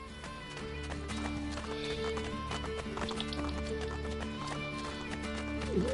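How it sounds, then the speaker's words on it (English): Horse hooves clip-clopping in the video game Assassin's Creed II, a busy, steady run of close hoofbeats with a brief whinny, over a constant musical and ambient background. "We're going to go and find Mario's favourite horse."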